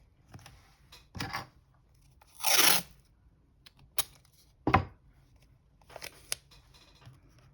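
Scissors cutting a tarot card along a printed line, heard as a few separate crisp snips and crunchy cuts, close and clear, with quiet pauses between them.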